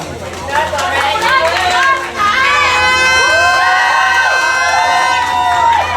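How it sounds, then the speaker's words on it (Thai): At the Miss Grand Samut Songkhram 2024 pageant crowning, a crowd cheers loudly with high shrieks and shouts that swell and overlap, close and sustained, with chatter mixed in. "ขอเสียงปรบมืออีกสักครั้งให้กับมิสแกรนด์สมุทรสงคราม 2024"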